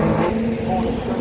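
Autograss race car at the Southern Nationals in Somerset, England, its engine droning loud and steady throughout, a harsh buzzing roar with a little crowd or voice murmur mixed in.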